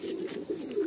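Madrasi pigeon cooing close by in Kolkata, a steady low rolling coo with a few soft swells through a single short call, no voices.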